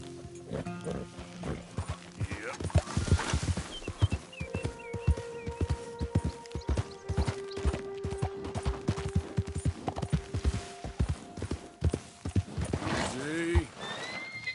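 A horse in Red Dead Redemption gallops with quick, steady hoofbeats, whinnying near the start and again at the end, while a voice talks over the riding.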